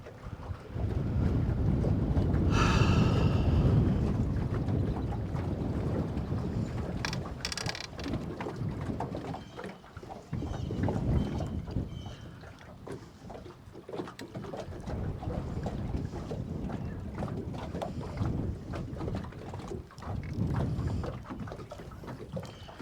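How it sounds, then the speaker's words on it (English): Wind gusting hard across a microphone on a fishing boat, a loud, rumbling buffet that swells and eases over twenty seconds, with faint water and boat noise beneath and no voices. "that wind found me"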